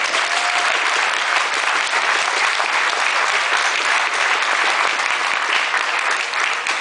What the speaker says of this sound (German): Nochmal einen Dollar Applaus für John 909,